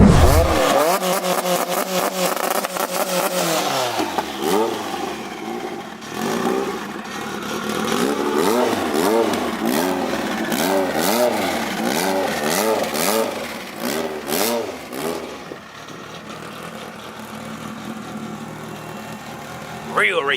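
A race car engine revs hard again and again, loud and close, its pitch sweeping up and down in repeated surges over a lower idle, with voices talking over parts of it.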